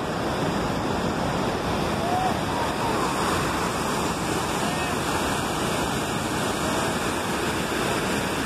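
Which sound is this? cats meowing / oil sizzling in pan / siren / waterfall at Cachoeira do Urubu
waterfall at Cachoeira do Urubu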